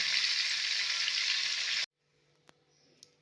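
Prawns for a Bengali malai curry fry in hot oil with a steady, close sizzle that cuts off abruptly partway through. A couple of faint clinks follow in near silence.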